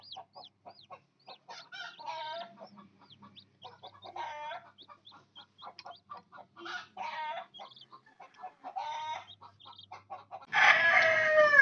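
Hens cluck in short, repeated bursts with scattered chirps close by, then a loud rooster crow rings out at the end.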